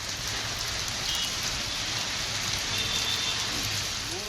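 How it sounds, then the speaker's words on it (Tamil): Steady rain pours down across a town in the Kovilpatti area of Thoothukudi district, Tamil Nadu, a dense continuous hiss of drops on surfaces with no voices. "சுட்டெரித்து வந்த நிலையில் திடீர் மழை மக்களுக்கு ஆறுதலாக இருந்தது"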